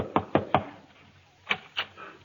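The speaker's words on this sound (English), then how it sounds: "He just hung up his hat when there was a knock at the door." Knocking at a door in an old-time radio comedy, three quick raps followed after a pause by two more, crisp and close with nobody speaking.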